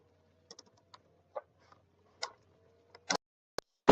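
Sparse keystrokes on a computer keyboard, a handful of separate soft clicks that grow louder and sharper toward the end, close to the microphone and with no voices.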